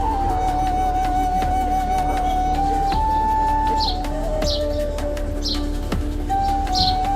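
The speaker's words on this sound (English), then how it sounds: "Now, birds are the only permanent residents, making their home in cracks in the ancient stone." Birds living in the cracks of the ancient stone temple of Philae chirp faintly in short, repeated high calls over a steady droning background hum.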